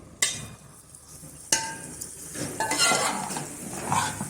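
A spoon stirs macaroni with ketchup in a metal pan, two sharp clanks against the pan followed by steady scraping and soft sloshing, close and moderately loud, with no talking.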